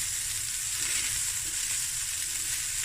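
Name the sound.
cabbage fried rice sizzling while stir frying in pan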